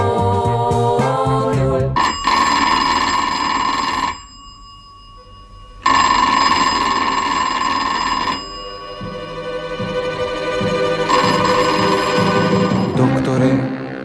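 An old-style telephone bell rings loudly in long sustained bursts, separated by short pauses, within a humorous radio sketch with music playing underneath.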